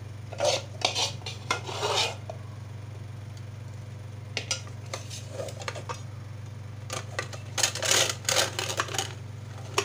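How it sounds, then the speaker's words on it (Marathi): Cooked chana dal being pressed through a hand-cranked puran grinder, with repeated metallic scraping and clanking bursts close by over a steady low hum. "आता आपण पुरण यंत्रातून वाटून घेऊया."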